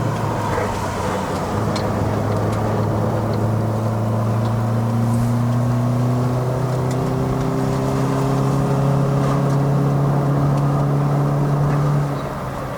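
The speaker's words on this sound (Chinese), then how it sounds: "我已经把油门踩到底了的哈" From inside the cabin, a modified Perodua Bezza 1.3L Advance engine is held at full throttle while climbing the steep road to Genting in Malaysia. It makes a steady, loud drone whose pitch slowly rises with no voices over it.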